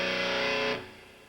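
A distorted electric guitar power chord rings out loud and sustained with buzzing harmonics, then cuts off abruptly and leaves a faint decaying tail.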